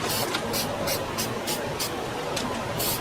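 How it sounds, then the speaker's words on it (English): Clear gloss acrylic sprayed from an aerosol can onto a pronghorn taxidermy game head, a steady close hiss with short bright bursts pulsing through it. "Got to use clear gloss, and just spray it, whiten it up."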